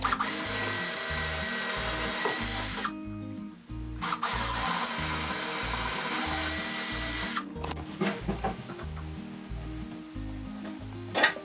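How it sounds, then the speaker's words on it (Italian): A 6 mm bit drilling straight through a workpiece on a pillar drill guide, with a loud steady whine that cuts out, briefly resumes, then gives way to lower rattling and clicks as the drill winds down. "E con la punta da 6 mm foriamo da parte a parte."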